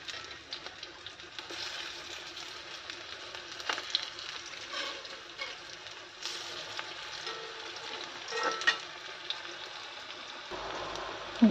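Food stirred as it fries in a pan, giving a steady, fairly quiet sizzle throughout with occasional light scrapes and clicks of a utensil.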